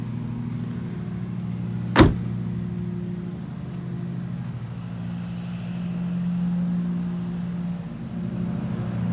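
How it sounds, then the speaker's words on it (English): The hood of a 2020 Shelby GT500 drops shut with a single sharp thud against a steady low engine-like hum, close by and with no talking. "to close the hood, you simply just grab it, lower it down, and let it drop"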